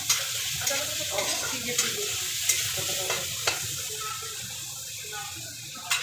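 Peas and ginger paste fry in a pan for a vegetarian dish, with a steady sizzle broken by rhythmic stirring scrapes while voices talk nearby.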